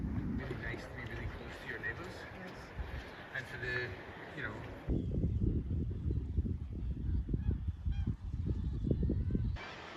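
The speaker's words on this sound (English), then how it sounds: "It was here in this beautiful area that we had our first introduction to the hugely abundant bird life present." Geese in Iceland honk loudly and repeatedly in a dense flock, first as a busy overlapping chorus, then thinner bursts mixed with wind rumble and someone talking.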